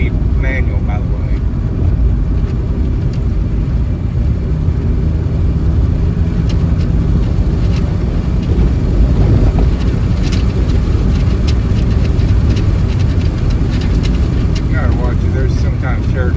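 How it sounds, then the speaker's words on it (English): A car with a 5-speed manual gearbox accelerates at full throttle on a road test after a Sea Foam treatment, a loud steady engine drone with wind rumble throughout and someone talking over it. "I'm full to the floor now. This is a 5-speed manual, by the way."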